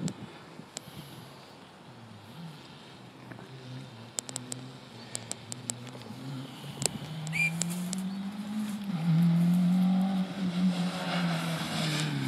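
A Vauxhall Corsa rally car on a forest rally stage approaches from a distance, its engine note building and rising as it draws nearer, getting loud in the final seconds with faint tyre noise.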